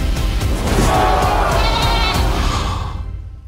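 A goat in a French comedy film gives one long, loud, wavering bleat close by, which fades away at the end.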